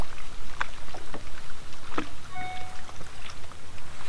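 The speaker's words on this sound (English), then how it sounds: "there's a boat coming around the corner" A boat approaching around a bend on a lake during a muddy-water bass fishing tournament, heard as a steady pulsing engine drone with faint tonal whine, moderately near and continuous without talk.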